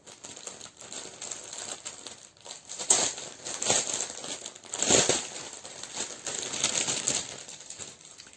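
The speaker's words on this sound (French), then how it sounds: "je vais déballer les fils" Thread skeins being unwrapped from their plastic packaging, with close crinkling and rustling that comes in irregular bursts, loudest in a few sharp crackles.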